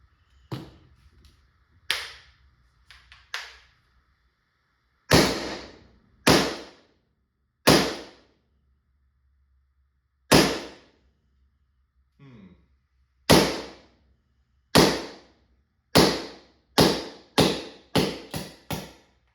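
Gunshots from a handgun test-fired after an FSC firing pin was fitted, loud sharp cracks with a few quieter clicks early, spaced irregularly at first, then grouped in a quicker string of shots near the end, no talk.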